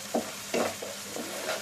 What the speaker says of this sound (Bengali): এদিকে পেঁয়াজটা খুব ভালো করে লাল করে ভেজে নিতে হবে।